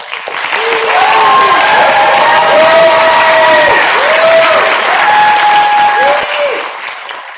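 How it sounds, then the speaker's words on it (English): A tournament awards crowd breaks into loud, sustained applause with some cheering and voices calling out, swelling quickly and then tapering off near the end. "So one more round of applause for our tournament"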